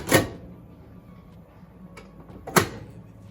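A door on an old Triple Zesty Hot Peppers vending machine is shut with a sharp knock, followed by a fainter tap and a second louder latching clunk, close by in a quiet room.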